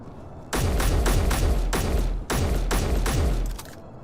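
Rapid bursts of gunfire from a firefight in the Space Engineers video game, repeated loud shots in two sustained volleys separated by a short break, close and dominant with no talk over them.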